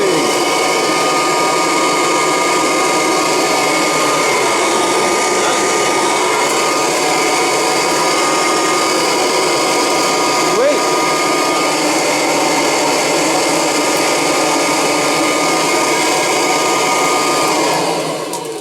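A 1989 Kirby Legend II vacuum cleaner runs with a loud, steady motor whine and airy roar that holds constant for the whole stretch, close up and alone, then starts to wind down at the very end.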